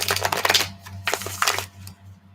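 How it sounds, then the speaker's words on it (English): Tarot cards being shuffled by hand, two short bursts of crisp riffling and flicking, close and moderately loud, with a quiet pause between and a steady low hum underneath. "Last shuffle, I promise. Last shuffle."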